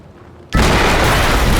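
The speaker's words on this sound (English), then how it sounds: "HQ, we just heard an explosion near the harvesting perimeter." Barrels blow up in the video game Quantum Break, a sudden loud blast that cuts in after a quiet moment and holds as a dense, roaring wall of noise.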